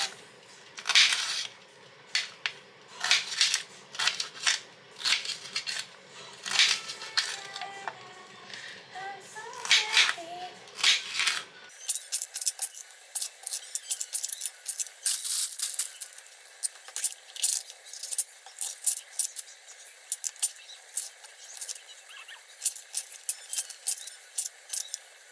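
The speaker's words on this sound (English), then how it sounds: "So that's the veg all cut." Knife chopping aubergine, mangetout, red and green peppers for a vegetarian Thai green curry, a steady series of close, crisp cutting taps against a board, running throughout with brief pauses.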